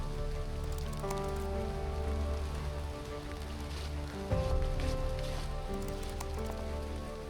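Steady rain patters on a steep, slippery mountain trail on Mount Leuser, a dense continuous hiss of drops around the listener with a brief louder knock partway through and no talking.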